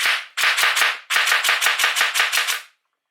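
Gel balls fly from a gel blaster in quick automatic bursts: a brief opening volley, a short pause, then a longer run of crisp, close, evenly spaced shots ending in silence, with no talking.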